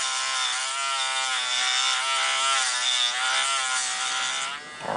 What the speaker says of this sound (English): after you're done with the Dremel work on the selector switch